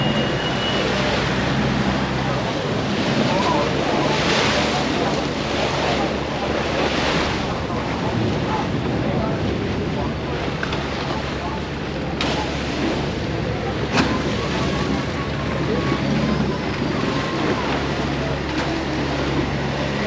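Boat ride on a busy river in Bangkok's Chinatown area, with a steady broadband wash of water and wind noise on the microphone and a low engine rumble running throughout, fairly loud and continuous.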